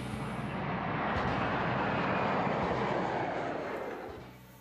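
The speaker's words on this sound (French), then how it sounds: "Aéroport privé. Avion privé pour toute l'équipe." Private jet engine roaring steadily at a private airport, a broad continuous rumble holding loud throughout and easing off near the end, with no voices.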